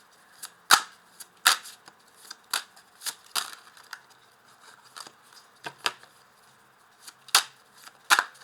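Tarot cards handled during a reading: a series of crisp, close card snaps and slides at irregular intervals, about a dozen sharp rustling flicks with quiet gaps between, no voices.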